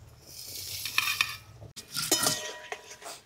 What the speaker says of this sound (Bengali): তেল গরম, দিয়ে দিচ্ছি কেটে রাখা আলু।